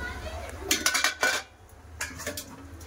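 A pot lid lifted off vegetable curry, giving a burst of metallic clinks and clatters close by, several quick knocks in a row and then a softer rattle a moment later.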